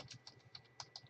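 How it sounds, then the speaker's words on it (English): Steady typing on a computer keyboard as a list of names is entered: a quick, irregular run of light clicks, close but faint, with no talking. "I'll just start typing."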